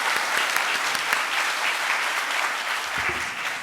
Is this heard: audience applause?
yes